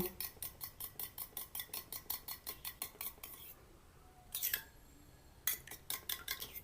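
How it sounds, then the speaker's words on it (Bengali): Raw eggs beaten with a little salt in a bowl for egg paratha, with a utensil clicking against the bowl in a fast, even rhythm. The strokes pause briefly, then come back in short bursts. The sound is close but quiet. "সামান্য পরিমাণ লবণ দেব ডিমটাকে ফেটিয়ে নেব"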